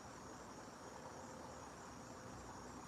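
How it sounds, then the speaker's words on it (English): Crickets chirp steadily at night near Baltimore's Inner Harbor, a dense, continuous, high-pitched trill that stays even and unbroken throughout, with no voices. "So we are hearing the crickets even more now."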